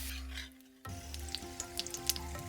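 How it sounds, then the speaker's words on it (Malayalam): Raisins fry in about two tablespoons of ghee in a pan, a quiet sizzle that gives way to brighter crackling pops and a stirring scrape. "ഈ ചീൻചട്ടിയിലേക്ക് ഒരു 2 ടേബിൾ സ്പൂൺ നെയ്യാണ് ഒഴിക്കുന്നത്. ആദ്യം റൈസിൻസ് ആണ് വറുത്തെടുക്കുന്നത്."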